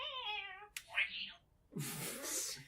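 A human voice imitates a cat's complaining meow, beginning with a drawn-out tonal whine and followed by breathy, hissing yowls, all fairly soft and close.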